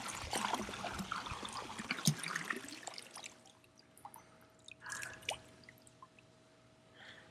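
Liquid chlorine bleach from a 2.5-gallon jug glugs and splashes into a swimming pool to shock it, a busy pouring rush that thins to scattered drips and a few later splashes.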